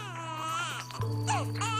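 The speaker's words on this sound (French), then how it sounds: "Les pleurs soutenus du bébé inquiètent sa maman" An 8-month-old baby cries in sustained, wavering wails, close and loud, with pitch rising and falling through repeated sobbing bursts.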